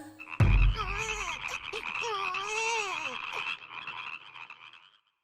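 A frog croaks in a drawn-out, wavering call after a sharp thump, the creaky warbling tones rising and falling for a few seconds before fading out.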